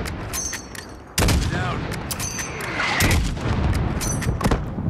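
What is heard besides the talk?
enemy gunfire in the video game Modern Warfare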